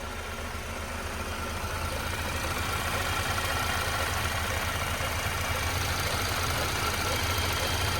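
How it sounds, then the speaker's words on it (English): Idling car engine with a steady, continuous low rumble throughout, a faint repeating bump from a worn pulley under the hood, close and even with no talk. "I hear a bump, bump, bump kind of sound."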